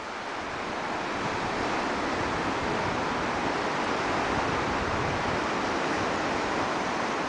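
Ocean waves breaking on the shore, a loud continuous roar of surf swelling slightly at the start, with wind buffeting the microphone.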